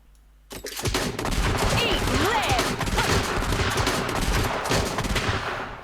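Gunslinger class firing left-click and right-click shots in the Deadeye video game: after a brief quiet moment, a dense, loud burst of rapid gunfire rattles on continuously for several seconds.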